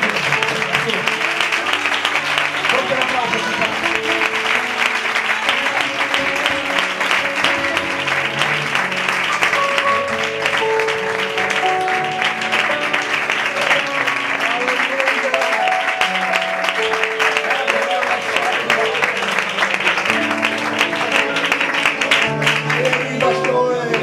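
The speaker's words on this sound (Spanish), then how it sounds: "Ese aplauso." Sustained crowd applause and cheering at a church service fill the space, dense and continuous, with music and voices mixed in underneath.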